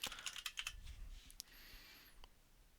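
A name typed on a computer keyboard during an admin user setup, a quick burst of close, crisp key clicks at the start, then a few scattered taps and quiet room hiss, with no talking.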